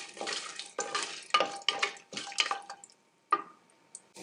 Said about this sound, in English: Now see, the spices started to sizzle